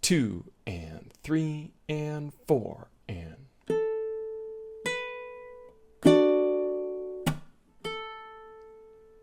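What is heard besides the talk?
ukulele chord melody, fingerpicked and strummed, measure 9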